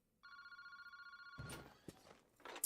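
A telephone rings in a video game, with a phone booth in a park at night: a steady electronic bell tone holds for over a second, then gives way to soft footsteps and clatter.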